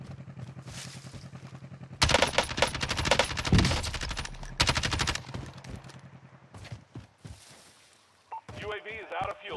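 Rapid gunfire bursts from a Call of Duty: Warzone Pacific match, loud dense volleys through the middle then thinning into scattered shots, with game announcer voice and other game sounds around them.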